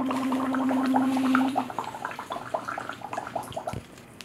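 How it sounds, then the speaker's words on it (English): Bubbles blown through a straw into water as a vocal tract exercise, a steady stream of close bubbling and gurgling, with a sustained hummed voice over the first part before the bubbling continues alone. "the bubbles never stopped? They were continuously flowing."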